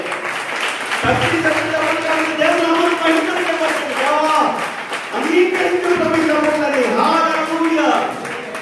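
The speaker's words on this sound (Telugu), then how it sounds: "చప్పట్లు కొట్టండి సార్." A church congregation at a prayer hall in Yadavolu claps hard in a sustained burst lasting several seconds, mixed with a preacher's voice and singing-like tones over it.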